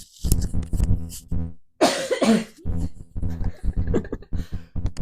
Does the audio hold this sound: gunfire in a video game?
no